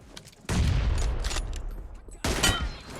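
Gunfire in a shooter video game crackles in two loud, close bursts of rapid shots, the first running about two seconds and the second shorter, with no voice.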